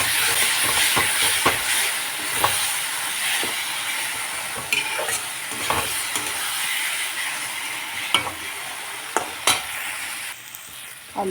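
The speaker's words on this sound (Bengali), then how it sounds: "আলুর সাথে মশলাটাকে ভালোভাবে কষিয়ে নিলাম।" Spice paste and potatoes stir-fried in a pan for a katla fish curry give a steady, loud sizzle, broken by sharp scrapes and clicks of a utensil against the pan.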